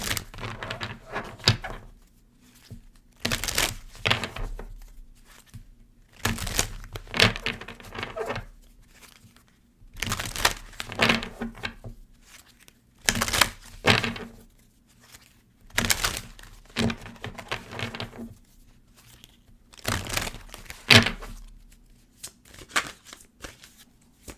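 Enchanted Map Oracle cards are shuffled by hand in repeated bursts of riffling and flapping, each lasting a second or two, separated by short pauses, close and fairly loud, with no voices.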